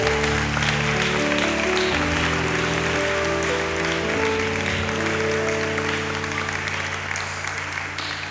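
Church congregation applauding at a Christian conference service, sustained dense clapping across the whole stretch with sustained musical tones and crowd voices underneath.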